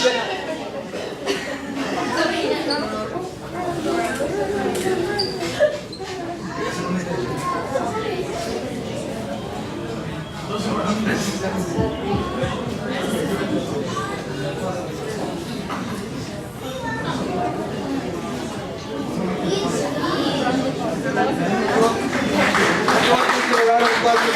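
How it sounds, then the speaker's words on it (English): Audience applause and chatter at an ASNA iftar gathering, a steady wash of clapping mixed with crowd talk and chuckles that holds for the whole stretch and swells slightly toward the end. "Everyone give a round of applause."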